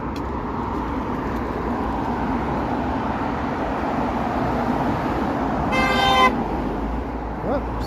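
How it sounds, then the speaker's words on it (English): A single car horn honks briefly in the distance over a steady roar of evening road traffic in North York, Toronto. "Oh, somebody honked."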